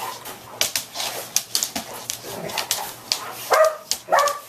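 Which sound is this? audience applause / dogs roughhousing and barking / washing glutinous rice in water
dogs roughhousing and barking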